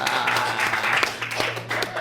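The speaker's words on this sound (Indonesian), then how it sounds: "Kita kasih tepuk tangan dulu dong untuk Bapak Fadila" Audience at a live podcast taping with a university rector clapping together, a steady wash of applause for a couple of seconds with a low hum underneath and some talk over it.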